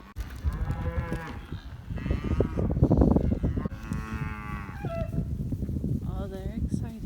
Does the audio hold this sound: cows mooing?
yes